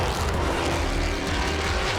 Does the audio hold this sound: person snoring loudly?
no